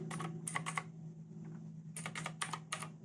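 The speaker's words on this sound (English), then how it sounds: "See what the keys sound like?" Close bursts of clacky typing on a 3inuS keyboard come in two short clusters over a low steady hum, with a quiet gap between them.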